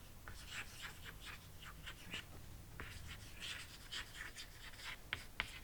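Chalk or marker writing on a board during a botany lesson, a series of quiet scratchy strokes and taps close by in a soft room.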